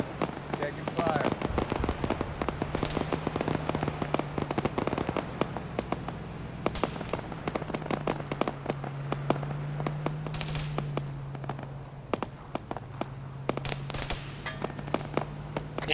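Rapid bursts of gunfire from a helicopter during a military-style operation crackle repeatedly across the whole stretch, sharp reports over a steady low rotor drone, with voices talking now and then.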